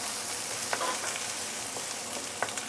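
Large prawns frying in a hot wok with premium soya sauce, a steady soft sizzle and crackle with a few brief stirring clicks, fairly quiet and close, no talking.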